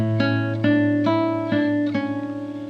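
A classical guitar plays a short Sagreras lesson passage, five plucked notes in a slow even rhythm, each ringing into the next, with a few quieter notes trailing off at the end. Close, clear and unaccompanied.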